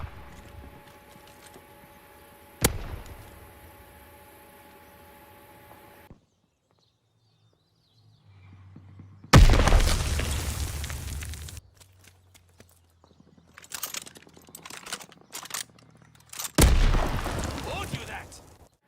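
Shooting and an explosion in the video game Call of Duty: Vanguard: a sharp early crack, then a silent gap, then loud booming bursts and scattered impacts, with a final heavy blast near the end.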